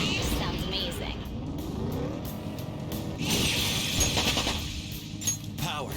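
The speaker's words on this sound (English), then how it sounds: "Driving a car in the subway isn't something you get to do every day" Car engine and rumbling tires driving through a dark subway tunnel in Persona 5 Royal, a steady loud drone with echoing clatter, mixed with game music and bursts of effects.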